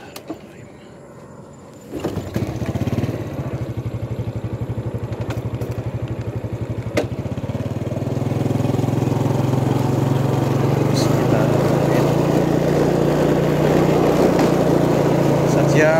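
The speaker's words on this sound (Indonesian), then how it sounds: "Saya nyalain motor dulu ya." A motorcycle engine starts and settles into a steady idle, its low rumble growing fuller and louder after a few seconds and running on continuously, close by, with no talk over it.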